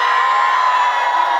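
A concert crowd at an outdoor trot music show in Goseong claps and cheers in a dense, steady roar of applause and shouts, loud and continuous across the brief moment, no talking.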